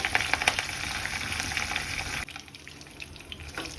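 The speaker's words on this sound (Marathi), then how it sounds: "आता आपण कढीपत्ता परतत आहोत" Curry leaves fry in coconut oil with a steady crackling sizzle and occasional stirring scrapes, close by, easing to a softer hiss about halfway through, with no talk.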